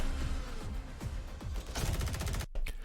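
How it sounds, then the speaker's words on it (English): Call of Duty Modern Warfare 2 gunfire bursts loudly, sharp repeated shots quickening into a rapid automatic volley before a brief cut and a final blast. "really cool shooting here"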